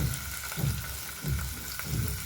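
Onions sizzle and fry in hot oil in a pan for a Telugu drumstick and tomato curry, a steady close crackle with faint stirring scrapes and no talking.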